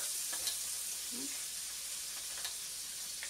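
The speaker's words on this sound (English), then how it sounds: "I'm going to put this back on in our pan so that it will cook" Chicken piccata simmering in a pan with lemon sauce gives a steady, soft sizzle throughout, with a few faint clicks near the start and middle and no talking.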